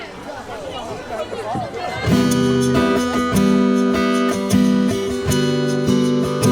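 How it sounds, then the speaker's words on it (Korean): An audience at an outdoor acoustic guitar busking show applauds the guitar group, with mixed voices in the noise, then strummed guitar music comes in loudly and drowns the clapping. "박수 한번 크게 쳐보겠습니다"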